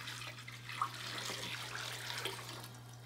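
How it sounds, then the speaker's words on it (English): Hot water pouring steadily into a Tupperware container for a sprained-ankle soak, a soft continuous splashing rush at close range with a faint low hum underneath. "you're going to fill the Tupperware up with hot water"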